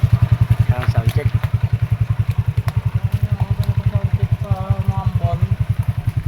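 A motorcycle fitted with a Zeus Apollo v3 exhaust pipe idles with a loud, rapid, regular thumping pulse, close up, while voices talk briefly over it.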